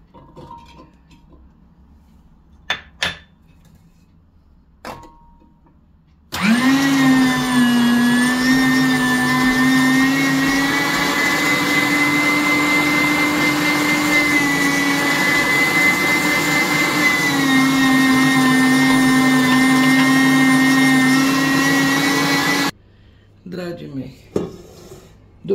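An electric meat grinder mincing meat with garlic for homemade Romanian mici starts up after a few clicks and runs as a loud, steady motor whine for about sixteen seconds, then cuts off, followed by handling clatter.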